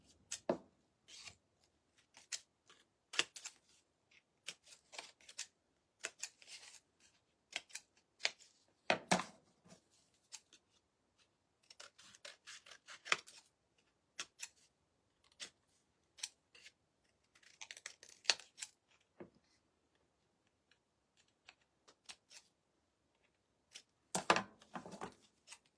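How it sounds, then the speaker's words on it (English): Scissors snip out a small handmade craft tag for primitive rag-ball decor, giving a run of sharp, close, irregular cuts in quick bursts with brief pauses between them and no talking. "I'm just gonna cut me off a tag"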